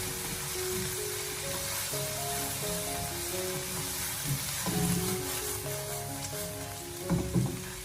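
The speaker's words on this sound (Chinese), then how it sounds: "再继续的开大火，把它翻炒几下，将它翻炒均匀" Celery and cured pork stir-fry over high heat in a wok, a loud, continuous sizzle with bursts of tossing and scraping, over soft melodic background music.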